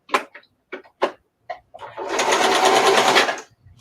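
A sewing machine stitches a fodder book in one loud close whirring run of about a second and a half, preceded by brief bursts of nearby conversation.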